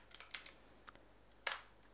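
Keys clack on a computer keyboard during a programming session, a short burst of uneven, close taps with one louder stroke near the end.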